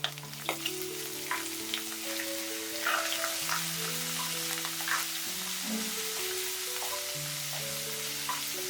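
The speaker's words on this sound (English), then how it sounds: "And now we'll saute for like 30 seconds" Chopped ginger, garlic, whole red chilies and cinnamon stick sautéing in hot oil for chicken wings, a dense continuous sizzle with occasional crackles, while background music plays underneath.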